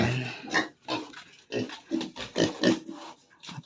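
A pig grunts and oinks in repeated short, close bursts during feeding on a backyard Filipino farm, the calls loud and uneven with brief pauses between them.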